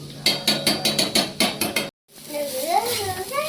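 Ivy gourd curry in oil, scraped and stirred in a pan for a dondakaya fry, with rhythmic metallic clatters of a spoon against the pan, a brief silence, then someone talking over soft sizzling.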